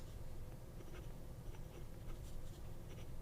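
Fine steel nib of a Hongdian fountain pen scratching lightly across paper, a soft continuous rasp with small strokes and taps, close and quiet with no voices.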